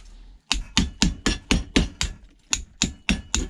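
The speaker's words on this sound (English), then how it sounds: "I'm going to hammer it forward" Hammer blows on a scrap part during a teardown, about eleven sharp metallic strikes in a steady, fairly even rhythm, loud and close with no talk.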